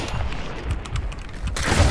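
Gunfire in an online shooter video game, with shotguns in play: a rapid, dense volley of blasts and booms in quick succession, loud and sustained with no voices.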